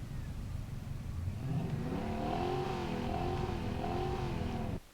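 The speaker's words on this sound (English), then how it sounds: "I love the way the vehicle moves when you do give it a rev" Ford Bronco engine revving in a cross-country gravel racing game set in Namibia: a steady, close mid-pitched drone that swells and wavers as the throttle is blipped, running continuously for about five seconds before cutting off abruptly.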